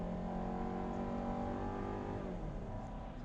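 A 2019 Volkswagen Tiguan's turbocharged engine accelerates at highway speed, a smooth drone rising steadily in pitch, heard from inside the cabin at moderate, even loudness.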